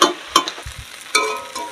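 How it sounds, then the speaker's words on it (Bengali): Fish oil frying in a pan with potatoes and onion, a steady sizzle broken by a few sharp stirring scrapes and clatters. "এদিকে মাছের তেল ভাজা হচ্ছে, আলু দিয়ে পেঁয়াজ দিয়ে আর মাছের তেল"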